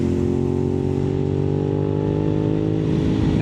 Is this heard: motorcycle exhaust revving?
yes